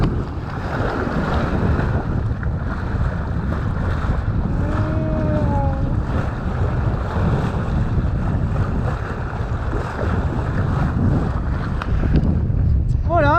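A sailboat charges fast through waves off the Italian coast toward Ponza, with a steady roar of wind, rushing water and hull noise throughout and a brief whistling tone partway through.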